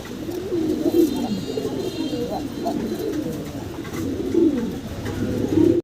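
A large pair of blue barless German Beauty Homer pigeons coo close and clearly in repeated rolling bursts over a steady background hiss.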